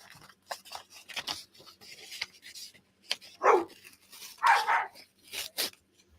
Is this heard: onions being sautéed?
no